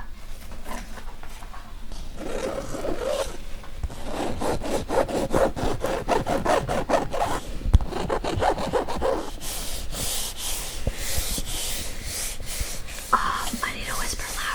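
Soft brush strokes sweep repeatedly across a microphone in a steady rubbing rhythm, close and intimate, with faint whispering under the scratchy bristle sound.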